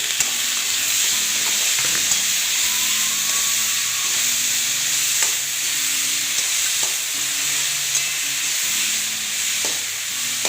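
Tomatoes, peas and carrots sauté in a pan with a loud continuous hissing sizzle, broken by occasional soft stirring scrapes and taps of a utensil.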